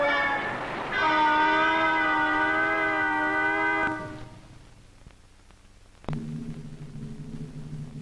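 A train's loud sustained horn-like blare holds for a few seconds, then cuts off to a quieter rumble before a lower droning tone resumes.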